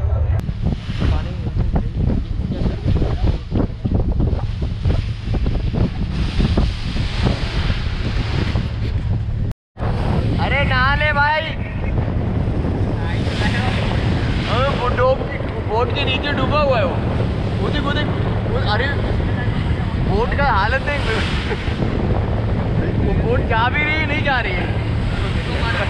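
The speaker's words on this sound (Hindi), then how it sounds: "बोट ऑन टाइम हमें जो है अलीबाग पहुंचा दी है" Wind and sea noise fill the deck of an M2M passenger ferry crossing from Mumbai to Alibaug, with the engine's steady low rumble and loud buffeting gusts; a brief dropout breaks it midway, and a voice speaks faintly in the background.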